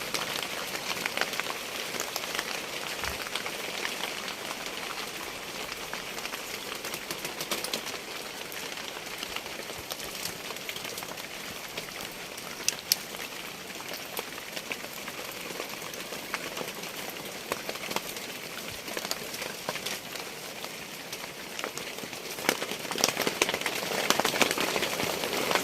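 Heavy storm rain pouring down in a forest farm setting, a steady dense roar of drops drumming on a surface with scattered louder splats, unbroken and fairly close throughout.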